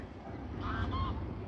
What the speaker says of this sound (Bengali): রিম ওগুলো কি বলো তো? হাঁস